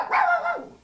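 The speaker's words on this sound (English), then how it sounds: "There's a dog, if you want to have a dog sound." A single sampled dog bark plays from a keyboard workstation's animal sound bank, short and clear.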